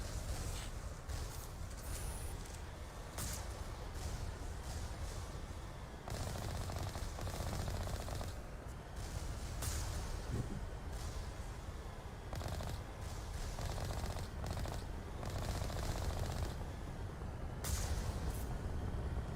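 Repeated bursts of gunfire in the video game Mass Effect, used to destroy enemy turrets, with crackling shots and impacts recurring in clusters over ongoing game ambience.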